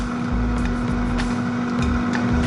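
A NuWave Power Air Fryer Oven Elite runs with a constant loud electrical hum and fan whir, steady and close throughout with no talk.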